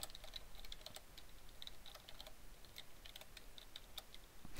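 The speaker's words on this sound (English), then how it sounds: "I'm sorry if you can hear the keyboard going." Quiet, steady clicking of a computer keyboard being typed on, irregular keystrokes tapping close by with a soft background hiss and no voices.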